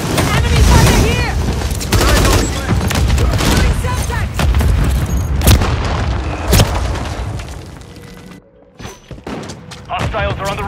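Call of Duty: Modern Warfare III match in which a grenade blast and rapid gunfire boom and crackle loudly, heavy repeated shots and explosions in close succession, with game voice callouts mixed in.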